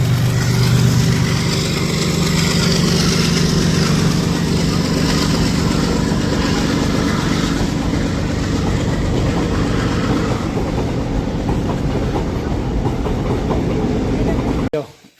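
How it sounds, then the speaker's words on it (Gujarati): A slow freight train rumbles past steadily at a railway crossing in Jamnagar, with a continuous clatter of wagons on the track that holds for most of the clip before ending abruptly. "ફાટક આવી ગયું જો રેલવે છે બાકી માલ ગાડી છે ધીરે ધીરે હાલે"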